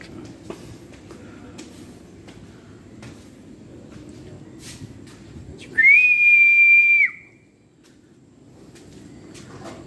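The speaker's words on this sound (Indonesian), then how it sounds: "itu siulan itu guys" A single sustained, steady whistle rings out clearly for about a second, loud above a low background rumble and scattered small knocks.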